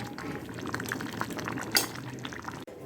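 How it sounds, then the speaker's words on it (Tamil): Karamani and radish kulambu simmering in a pot, with soft bubbling and popping at a close, moderate level, one brief louder spatter near the end, and no talking. "சும்மா ஒரு கொதி விட்டு நீங்கள் ஆஃப் பண்ணிக்கலாம்."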